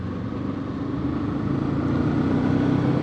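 A Kawasaki Eliminator 500SE motorcycle engine hums in a steady, even drone while being ridden, heard close and continuous, with throttle eased off and gently reapplied and no sharp revving peaks.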